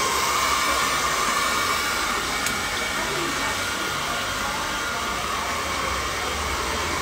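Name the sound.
hair dryer at full blast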